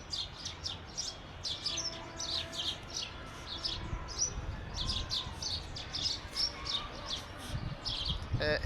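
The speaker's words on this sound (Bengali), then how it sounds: "পাখিদের কিচির মিচিরও শোনা যাচ্ছে" Birds chirp and tweet among spring flowers in a breeze, many quick bright calls overlapping continuously at moderate distance, with a soft wind rumble underneath.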